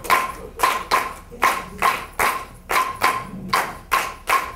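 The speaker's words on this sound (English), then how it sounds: "I'm going to clap here." Group of people clapping together in a steady bomba rhythm, about two claps per second, sharp and close, with no talking over it.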